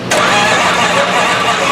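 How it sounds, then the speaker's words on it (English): A blown 3,500HP Hemi drag engine cranked over with ignition off, a loud, close, steady mechanical churning roar that kicks in abruptly and holds without catching, no talking. "No ignition, just crank it over."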